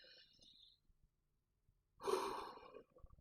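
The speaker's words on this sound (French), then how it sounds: "ça c'est une respiration masculine, une respiration de confiance, une respiration qui fait gonfler le ventre" One deep, slow breath, first a faint intake and then a louder, breathy exhale close to the mic lasting under a second, with no talk.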